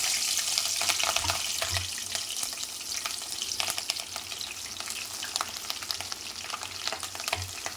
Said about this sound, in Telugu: ఇప్పుడు ఆయిల్ వేడెక్కింది, దాంట్లో పచ్చిమిర్చి వేసేసుకుందాం.